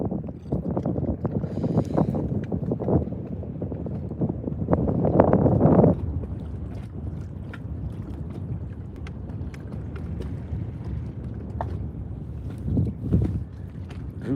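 Gusty wind buffets a fishing boat out on the water, a continuous rough rumble with louder bursts, heard close to the microphone with no talking.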